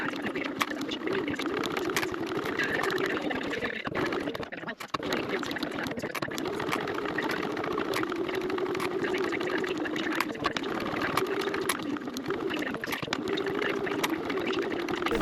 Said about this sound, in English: back to the machine, and I'm just going to stitch along the edge with about an 1/8 of an inch seam allowance